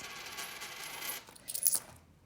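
Coins drop and clink together at close range, a short bright metallic jingle that rings briefly before stopping, alone with no talk.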